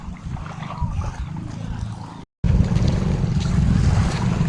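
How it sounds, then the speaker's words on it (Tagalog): Waves wash steadily along a tropical island shore, with wind buffeting the microphone and a brief dropout midway, the surf rumbling low and continuous. "Dito kami ngayon sa tabing dagat mga kadabes"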